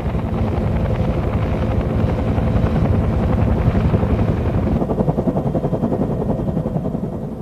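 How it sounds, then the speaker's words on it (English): A Huey helicopter's rotor beats in a loud, steady rapid chop over a heavy turbine drone, held close and constant without any voices. "Because of the rotor noise, pilots tried to avoid alerting the enemy until the last possible moment."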